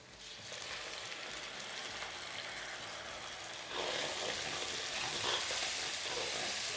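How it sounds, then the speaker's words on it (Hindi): Tomatoes and green chillies sizzling and frying in hot oil in a pan for spinach kofta curry, a steady crackling hiss that grows louder partway through, with no talking. "टमाटर ने खूब अच्छी तरीके से पकवा देवाला।"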